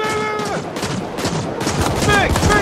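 Rapid gunfire in the sci-fi shooter The Ascent, dense overlapping bursts and shots crackling nonstop alongside game sound effects, loud and close, with a voice talking over the action.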